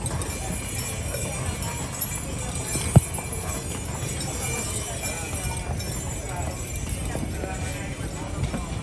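Horse-drawn carriage ride through the streets of Cordoba, with hooves clip-clopping in a steady rhythm close by while people chat over them.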